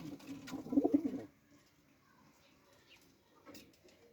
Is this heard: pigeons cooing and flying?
yes